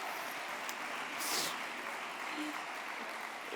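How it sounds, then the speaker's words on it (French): Steady, soft audience applause at a round-table conference, a dense even wash of many hands clapping at a distance, with no voices over it. "Applaudissez-la aussi."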